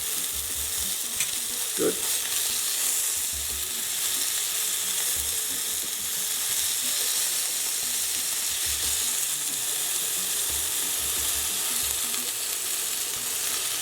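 Thin chicken cutlets fry in a hot pan with a steady, close sizzle and occasional scraping clicks, while a voice briefly speaks.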